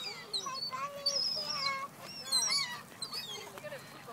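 Geese and ducks honk and call repeatedly while being fed outdoors, a scattered chorus of nearby birds with occasional overlapping honks.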